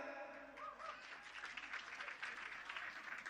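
Faint applause from the crowd at a stand-up comedy show in Bali, starting softly and swelling into a steady patter of clapping that carries to the end.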